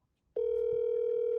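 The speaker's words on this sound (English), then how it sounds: "It's weird that it went straight to voicemail, but this time it rang." An outgoing phone call rings after a short silence, a steady loud electronic tone that starts abruptly and holds to the end.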